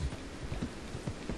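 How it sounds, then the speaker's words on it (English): Horse hooves clip-clop in Red Dead Redemption in a quick, even rhythm, soft and fairly close, with no one talking. "Horse."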